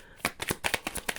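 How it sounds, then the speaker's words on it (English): Quick rhythmic riffling of a deck of tarot cards, about seven crisp flutters in a row, close and clear. "Ooh, okay, last shuffle."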